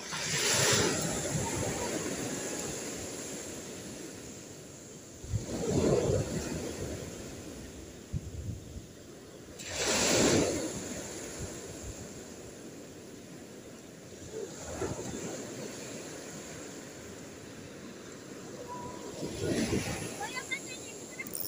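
Sea waves surge and crash in strong northeast wind at a fishing spot, swelling in loud rushes every few seconds over constant wind roar, with occasional voices talking.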